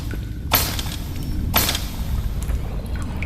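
A flashbang explodes in the Animal Company video game: two sharp, loud bursts about a second apart over a steady bed of game background noise.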